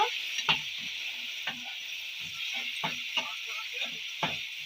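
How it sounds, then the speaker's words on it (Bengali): Green chili paste and turmeric powder fry in oil in a pan for a bhetki fish curry, with a soft steady sizzle under about a dozen sharp, irregular scraping clicks from a stirring spoon. "আবারও একবার নেড়ে দেবো, ভালো করে কষিয়ে নেব"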